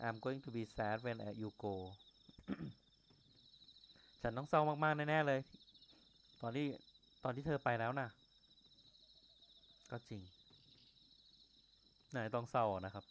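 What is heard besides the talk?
frog croaking ambience in video game Yomawari: Midnight Shadows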